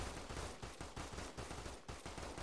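Rapid bursts of gunfire and explosions from bombs crash through a battle in Arma 3 with a Warhammer 40K mod, a dense, loud, continuous barrage of repeated sharp reports.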